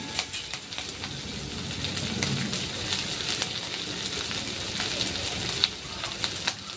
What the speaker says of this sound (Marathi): मी सगळं थोडं तेलामध्ये चांगलं भाजून घ्यायचं आहे चायनीज म्हटलं का तुम्हाला हाय फ्लेमवरच करावं लागतं सगळं